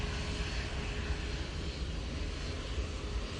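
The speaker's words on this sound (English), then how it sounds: "Hawker 750 is off to Paris, sneaking up on me there" A Hawker 750 business jet departs Manchester Airport for Paris, its steady broadband engine roar filling the clip without a break, quite loud and continuous, with no voices over it.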